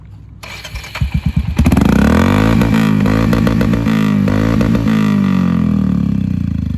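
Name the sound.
motorcycle exhaust with SC Project silencer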